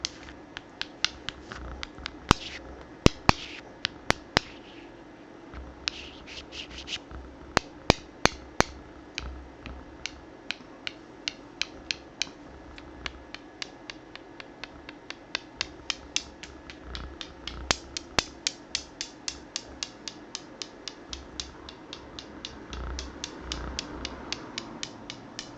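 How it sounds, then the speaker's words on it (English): Wooden dominoes handled and clicked together, a long run of gentle, close, crisp taps and clacks in irregular bursts over a soft background, with no talking. "This is the sound that people want from Dominoes, I think. It's such a gentle wood sound."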